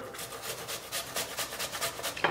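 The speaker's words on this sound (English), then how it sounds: "use the bigger side of the grater" A peeled apple is rubbed against the coarse side of a grater in quick, even rasping strokes, about a dozen close-up scrapes in a steady rhythm.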